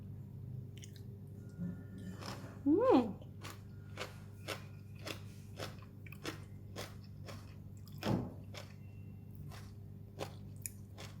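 Crunchy blanched water spinach in garlic soy sauce being chewed close up, a steady series of crisp bites and crunches with a brief voiced sound near the start.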